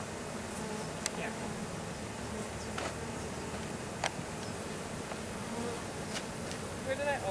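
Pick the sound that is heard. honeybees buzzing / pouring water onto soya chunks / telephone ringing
honeybees buzzing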